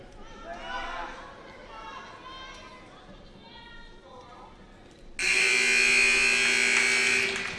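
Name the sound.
final buzzer at wrestling match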